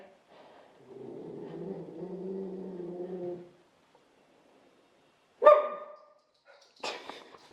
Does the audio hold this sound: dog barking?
yes